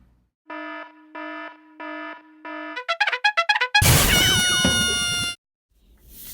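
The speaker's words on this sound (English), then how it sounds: "bear in mind this is a computer program, and it doesn't really sound like a real violin" Computer-synthesized violin music played back, beginning with four evenly spaced sustained tones, then a quick run of short plucked-sounding notes and a bright, dense swelling chord that cuts off abruptly, synthetic and loud with no talk.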